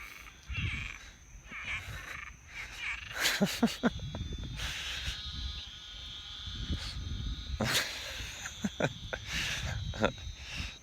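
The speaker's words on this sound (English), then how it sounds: "You gotta come listen to the frogs." Loud chorus of frogs croaking steadily, dense overlapping calls with bursts of sharper croaks and insect-like trills in the background.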